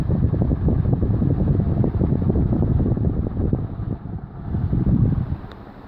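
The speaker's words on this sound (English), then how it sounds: "Very powerful fan, especially right underneath" A 56-inch NuTone Proline ceiling fan runs at high speed, producing a loud, steady whooshing rumble of moving air with a slight dip and swell near the end.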